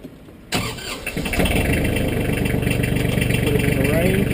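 A Massey Ferguson compact tractor's diesel engine cranks and catches after a brief quiet moment, then settles into a steady, close, loud running rumble.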